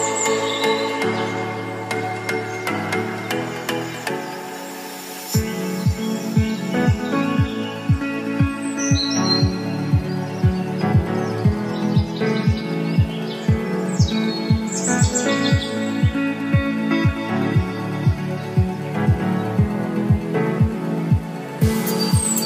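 Bright bird chirps and tweets flicker over a steady rhythmic musical background, with birdsong layered throughout rather than standing alone.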